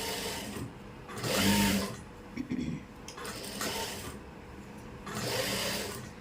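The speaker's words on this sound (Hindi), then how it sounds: "इसके ऊपर हम लगाएंगे टॉप स्टिच। टॉप स्टिच बहुत ज़रूरी है, इससे ज़्यादा फिनिशिंग आती है नेक में" A sewing machine top-stitches the neckline of an anarkali dress in three short bursts of close, buzzing stitching separated by pauses, with a little handling noise between.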